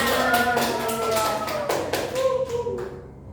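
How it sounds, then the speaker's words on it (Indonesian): A classroom group claps for two presenters during a microteaching lesson, a short burst of close hand claps that tapers off toward the end, with talking under the clapping. "Tepuk tangan dulu untuk keduanya"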